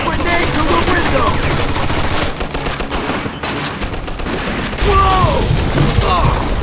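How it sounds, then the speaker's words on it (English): Sustained machine gun fire in the video game Mafia II, loud dense rattling bursts that ease briefly mid-clip and then resume, mixed with game voices shouting. "Looks like we found the machine gun!"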